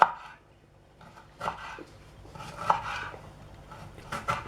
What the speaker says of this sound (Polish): bardzo drobno kroimy paprykę czerwoną.